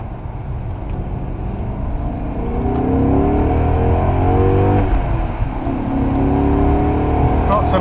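A BMW E39 M5 accelerating hard, its engine note rising and dropping back with a gear change and then climbing again, loud and steady inside the car.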